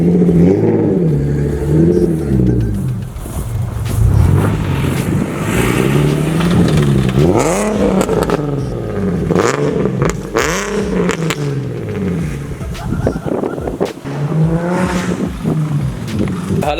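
A Nissan 370Z fitted with a Tomei titanium exhaust revs loudly and repeatedly, its engine note rising and falling in sharp sweeps with pops between. It sounds close, and voices come in over it at times.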